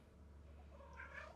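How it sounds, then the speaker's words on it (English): A domestic cat purrs softly and close by, a faint steady rumble with a brief higher vocal trill near the end. "Yeah, I know. You are a cat."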